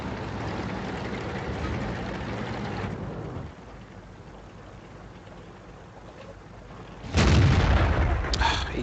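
The short 88 gun on a JgPanzer IV in World of Tanks fires in a heavy, booming blast near the end of the clip, after a stretch of rumbling engine and battle noise.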